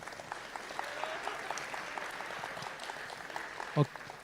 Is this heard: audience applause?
yes